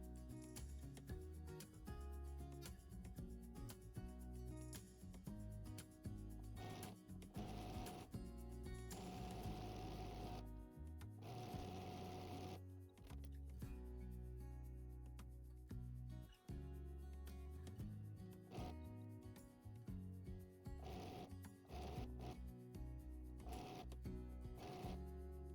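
Against faint background music, a sewing machine quietly stitches strips of quilt fabric together in steady bursts of fast, close mechanical chatter.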